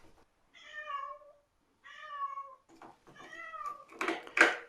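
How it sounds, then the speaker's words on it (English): A cat meows four times, close and clear, with short pauses between the calls, followed by a couple of light knocks or rustles at the end. "Shadow cat has arrived."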